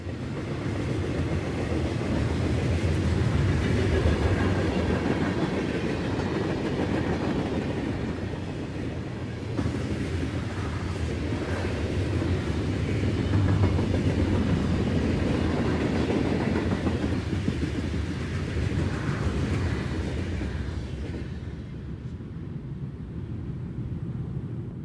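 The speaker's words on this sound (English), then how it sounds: "The SD-50 on the lead of this empty coal train was originally B&O's 8581 as well." An empty CSX coal train led by an SD-50 locomotive, formerly B&O 8581, rolls past on the Magnolia Cut Off in 1992, a long steady rumble with clickety-clack of cars and some wind buffeting, fading near the end.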